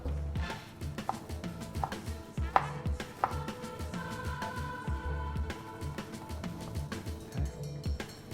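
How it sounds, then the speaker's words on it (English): A knife chops a quarter onion and a garlic clove on a board, giving a series of uneven, moderately loud thuds over a constant tonal background. "I'm going to take a quarter of an onion and 1 clove of garlic again. This time around, I want them to be nicely chopped."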